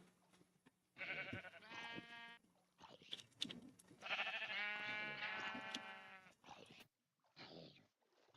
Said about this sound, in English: I kept hearing sheep, and I'm like, where are those sheep?